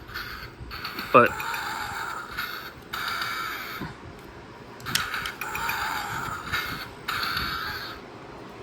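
Optimus Primal toy from the Year of the Monkey line has its jetpack rotating out at a button press, giving close plastic creaking and ratcheting clicks in repeated short bursts, with a brief spoken word near the start.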